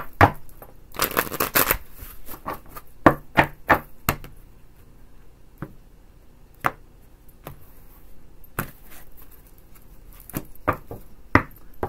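A deck of tarot cards is shuffled and cut by hand, with a fast riffling burst at the start followed by scattered sharp taps and slaps of cards, close and without talk.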